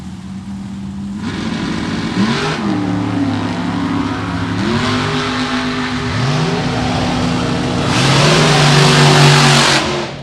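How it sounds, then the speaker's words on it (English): A Corvette Roadster engine at a drag race revs hard through repeated rising surges with gear-shift dips, loud and close, building to a roaring peak near the end. "The Corvette Roadster on the throttle stop"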